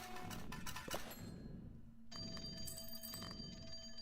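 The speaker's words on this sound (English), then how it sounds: "And my ears shake from the loud ringing." A telephone rings in the CloverPit gambling video game, a faint electronic ringing tone with a brief pause then continuing steadily, alone with no talk.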